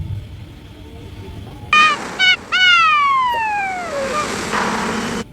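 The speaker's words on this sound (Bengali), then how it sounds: "আচ্ছা, অ্যাম্বুলেন্স চলে আসছে" A wailing ambulance siren starts abruptly as a few short whoops, then runs into one long, loud descending sweep that dies away. It sounds fairly close and carries over faint background noise.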